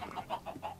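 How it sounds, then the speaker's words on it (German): Chickens cluck in the strategy game City War Nations, with a short run of rhythmic, close clucks repeating about every fifth of a second, soft and alone. "Ich wette, das wird Niki so aufregen, wenn hier tausende Hühner sind. Die einfach die ganze Zeit rumgackern"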